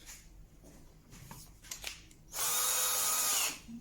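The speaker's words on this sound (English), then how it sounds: "Just going to use quite a small drill for a pilot." A small power drill drilling a pilot hole in a woodworking vise jaw whirs loudly for about a second, preceded by faint handling clicks and bumps.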